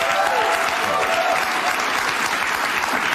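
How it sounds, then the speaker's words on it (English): A studio audience at a talk show applauds loudly and steadily, a dense, unbroken wash of clapping that fills the whole moment without pause. "his whole audience is applauding because they agree"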